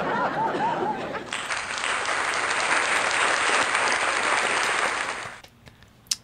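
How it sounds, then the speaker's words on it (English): A studio audience breaks into loud, sustained clapping that starts abruptly, holds steady for about four seconds and then cuts off, leaving a quiet tail with a single sharp knock. "That was us clapping for you, man."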